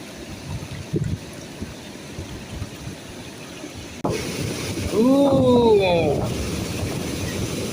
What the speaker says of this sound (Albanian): Shiko, kjo është zhurma e ujit.